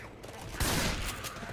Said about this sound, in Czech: Tady vůl do mě zase střílí.